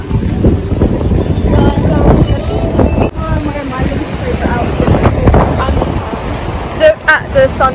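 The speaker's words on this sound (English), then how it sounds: "It's really windy." Strong wind buffets the microphone on a Caribbean beach in Saint Lucia, a loud continuous roar mixed with surf, with people talking over it throughout.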